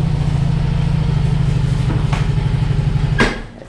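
Motorcycle with a loaded sidecar arriving at a house, its engine thumping in a steady low rhythm before cutting off near the end with a couple of clunks.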